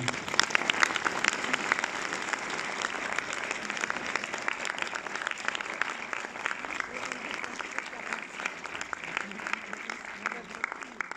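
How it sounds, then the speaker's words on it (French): Cinema audience at a film premiere in Orléans applauding loudly and steadily for several seconds, a dense, continuous patter of many hands filling the room. "je pense qu'on peut encore vous applaudir très très fort, messieurs, dames"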